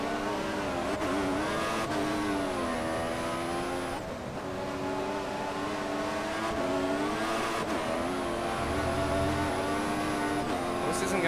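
High-pitched Formula 1 car engine in the video game F1 2014 whines continuously, rising and dropping through gear shifts in a steady, synthetic-sounding drone, with no talking.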